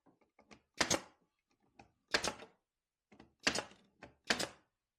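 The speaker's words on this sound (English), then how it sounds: "we're going to go ahead and shoot some nails" A nail gun fires nails into a wooden bench planter, five sharp, fairly loud pneumatic bursts spaced about a second apart, with small clicks and taps of handling between them.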